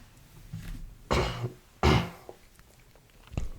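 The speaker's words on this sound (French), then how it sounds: "Je tousse" Two distinct coughs, close and fairly quiet, separated by a pause, with a softer throat sound near the end.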